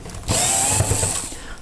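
A power drill unscrews one of five screws from the side panel of a heater, producing a single loud, close, steady whir that lasts just over a second and then fades out.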